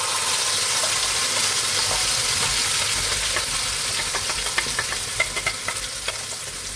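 Steady frying sizzle with clinks of stirring against the pan as tempering of fried lentils is made for mint-coriander thuvayal; crackling grows sharper near the end.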